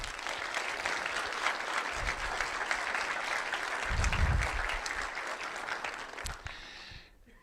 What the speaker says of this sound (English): I would like to have a big applause for all of the people who are behind the Code Dive